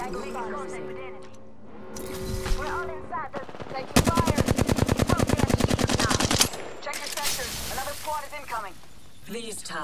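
Gunfire in the battle royale shooter Apex Legends: a loud burst of rapid automatic fire lasting a couple of seconds, with scattered shots and game sounds around it and character voice callouts throughout.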